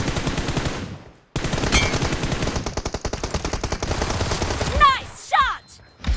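Rapid automatic gunfire in the video game PUBG, loud dense bursts of shots with a short pause, followed by some chirpy game sounds near the end.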